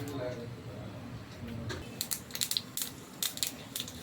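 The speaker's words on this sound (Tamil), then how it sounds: "கடுகு பொரிஞ்சிருச்சு" Mustard seeds and urad dal spluttering in hot oil in a pan, a run of sharp, irregular pops and crackles over a soft sizzle, close by, with a voice talking faintly early on.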